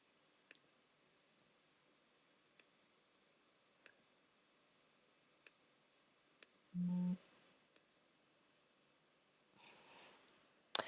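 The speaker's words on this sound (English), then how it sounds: "Sorry, that was my phone." A phone notification sounds once as a short, steady electronic tone, standing alone amid sparse faint clicks in an otherwise quiet room, with no speech.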